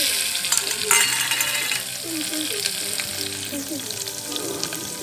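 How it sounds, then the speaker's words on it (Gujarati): Curry leaves and chillies spit and crackle in hot oil while tempering for khichdi, a loud close sizzle with stirring scrapes and faint tonal clatter mixed in. "અને થોડાક લીમડા મરચા નાખી"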